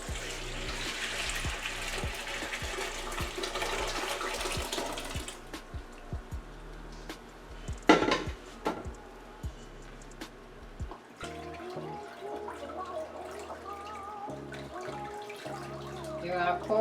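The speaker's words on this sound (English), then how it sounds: "now we're going to pour it off into a strainer" Boiled cranberry juice poured into a strainer, a rushing splash of liquid for several seconds followed by softer trickling, clinks and handling noises at close range.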